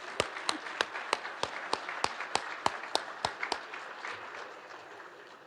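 A small group of hands clapping in a slow, evenly spaced rhythm at an arts awards ceremony, about fifteen distinct claps that fade gradually. No talking is heard.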